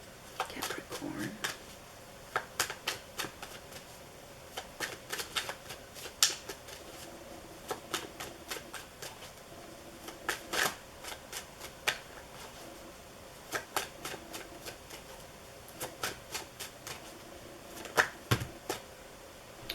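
A deck of tarot cards is shuffled in repeated bursts of crisp, close flutters and taps, scattered irregularly across the stretch with quiet gaps between them.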